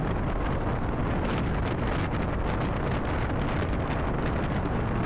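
Strong headwind roars steadily across the microphone while riding a 2025 Bajaj Avenger 160 Street motorcycle at speed in fifth gear, a loud constant rushing buffet with no talk.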